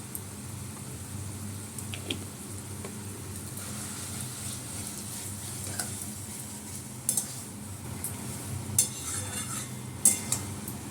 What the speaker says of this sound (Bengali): এটা একটু ভাজা ভাজা হোক